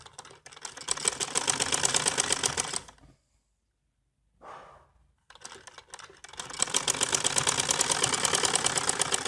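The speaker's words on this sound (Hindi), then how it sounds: "ये शोल्डर्स की सिलाई लगाएंगे।" A sewing machine stitches the shoulder seams of a pleated kalidar frock, running in two long rapid bursts with a short quiet gap and a brief spurt between them.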